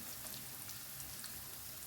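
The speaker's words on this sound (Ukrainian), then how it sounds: "Додаю сюди ще морковку. І все разом буде смажитися." Onion and carrot fry together in a pan with a steady, faint sizzle and soft crackle that continues evenly throughout, with no talking.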